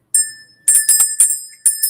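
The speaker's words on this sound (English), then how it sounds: "My little fairy bell." A small fairy bell rung to cleanse energy, giving bright, close tinkling jingles in several quick shakes separated by brief pauses, each ring leaving a clear sustained tone.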